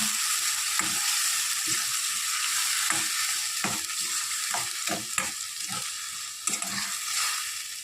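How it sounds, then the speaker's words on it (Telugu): Onions sizzling and frying in a pan for a mango fish curry, a steady bright hiss broken by repeated scraping stir clicks throughout, close and fairly loud with no talking. "ఆనియన్స్ ఇలా దోరగా వేగినప్పుడు మసాలా వేసుకోవాలండి."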